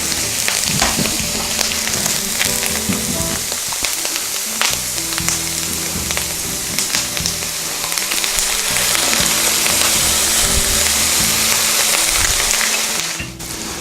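Quorn vegetarian sausages sizzle loudly and steadily in a hot pan after a splash of balsamic vinegar, with a dense continuous frying hiss, scattered pops and occasional utensil scrapes, close up throughout.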